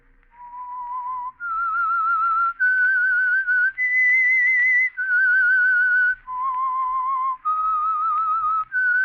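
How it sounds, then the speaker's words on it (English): Whistled theme signal of The Whistler old-time radio mystery program: a clear solo melody of about eight held, slightly wavering notes, close and distinct with no talking. "That whistle is your signal for the Signal Oil Program"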